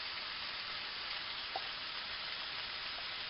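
Pre-chopped garlic sizzles in a pan of shredded beef preparation, a soft continuous hiss of frying held at low level with one faint tick partway through.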